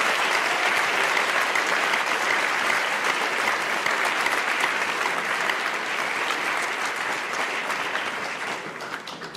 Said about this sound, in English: cheer for Coach T as well